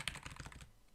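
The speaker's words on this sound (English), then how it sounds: "I'm just clicking the arrows on the keyboard" Arrow keys on a computer keyboard are tapped in a quick run of about ten close, crisp clicks, then they stop, with no talking.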